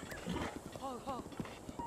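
A horse gallops in the Zelda Breath of the Wild video game, with quick hoofbeats and a brief whinny-like call while voices talk over it.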